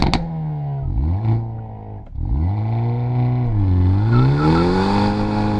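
A 2024 Hyundai Elantra N launches from 3,700 RPM with wheel spin, the engine dipping, then rising in a loud, close, strained drone that sags and climbs again as it pulls away in first gear.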